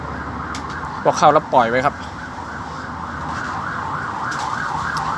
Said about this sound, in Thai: เดี๋ยวหยุดเสียงแป๊บครับรถไซเรนมา